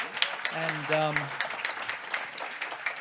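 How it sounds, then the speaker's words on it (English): Audience applause for a featured guest at an interview kick-off event for an Antarctica voyage, steady clapping across the whole clip with a brief hum-like tone early on. "another round of applause for our amazing guest today"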